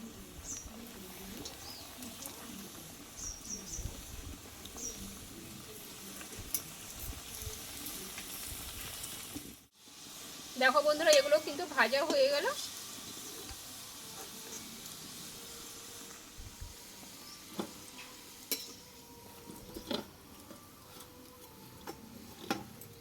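Bengali tiffin snacks frying in a pan of oil, with a steady low sizzle and crackle running throughout, a brief drop near the middle, then louder bubbling and spitting as more pieces go in.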